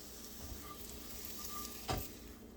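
Soft-curd scrambled eggs scraped out of a pan onto a plate, a faint steady sizzle with a quick scraping scuff near the end.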